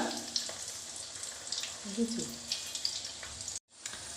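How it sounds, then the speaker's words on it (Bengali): Cauliflower and flattened-rice chops fry in hot oil until brown, giving a steady soft sizzle with faint clinks and a brief gap near the end; no one speaks. "প্রত্যেকটা চপ এরকম বাদামি কালারে ভেজে ভেজে তুলে নেবে"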